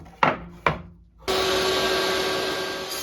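A table saw with a sled and stop block cuts wood: two sharp knocks are followed by the saw roaring into a loud, steady, close whine.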